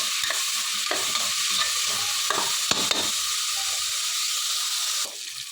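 Dill leaves and drumstick pieces fry in ghee and oil, giving a continuous hissing sizzle broken by several scraping stir strokes that come close together and are heard clearly.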